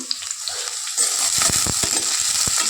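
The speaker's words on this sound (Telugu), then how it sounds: "నూనె మరిగింది కదా ఉల్లిపాయలు వేసేద్దాం" Onions hitting hot oil for a brinjal and mango curry, bursting into a loud close sizzle after about a second, with a few sharp stirring scrapes and clatters against the pan, no voices.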